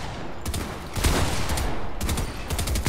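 Bursts of gunfire from a Fortnite trio match, with rapid automatic fire in clustered volleys and gaps between, loud and close with no talk over it.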